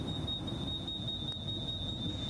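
Steady low rumble of a train pulling out from Brisbane's Nundah station, with a thin constant whine above it, heard from a seat inside the carriage and continuing evenly throughout.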